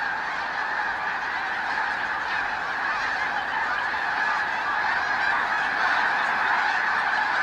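Large flock of snow geese setting off on spring migration, many birds honking together in a thick, unbroken clamor that stays steady and fairly loud throughout.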